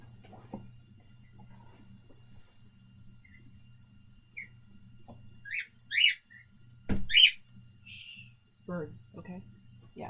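Birds chirp against a quiet, low background hum, with a few sharp, bright calls standing out near the middle and end.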